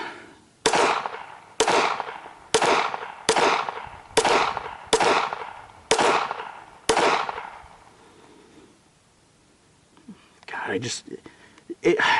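A World War 1 German Luger pistol fired at a range, eight loud sharp shots in a steady rhythm with echoing decays, then a pause and brief talking.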